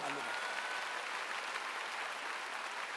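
A large church congregation at a stadium gathering claps steadily in a continuous wash of applause, fairly faint and distant, with a brief voice at the very start.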